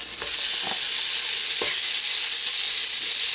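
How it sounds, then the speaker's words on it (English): Bacon fries in a seasoned cast iron pan on a Griswold three-burner camp stove, a loud, steady sizzle with a few soft scraping stirs. "throw this bacon in here"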